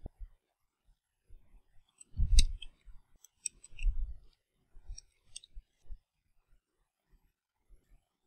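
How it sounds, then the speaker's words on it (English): A computer mouse clicks sharply and closely, in scattered single clicks and small bursts over several seconds, separated by quiet gaps. "I'm choosing the entire video, that is always a flexible option, and I'm clicking on update."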